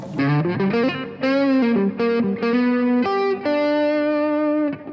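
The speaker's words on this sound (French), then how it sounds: "j'ai juste un son crunch de mes amplis avec du reverb" A Fender Stratocaster Modern Player HSH through an amp's crunch channel plays sustained chords and single notes with a crunchy, driven tone and a reverb tail, steady and fairly loud with no voices.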